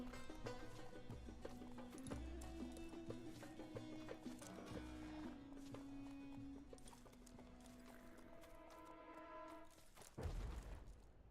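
Steady hoof clip-clop from a donkey walking in a video game, continuing at an even pace throughout, with a louder thump near the end and no talking over it.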